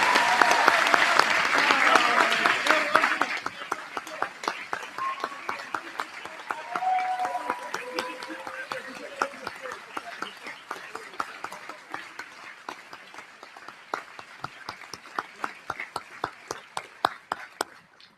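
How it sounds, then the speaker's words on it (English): A graduation audience at a school ceremony claps for faculty, loud dense applause at first that thins into scattered individual claps fading over time, with brief murmurs of voices. "join me in thanking with a round of applause the extraordinary faculty members"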